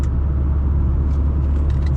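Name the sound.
2013 Chevy Spark car driving and accelerating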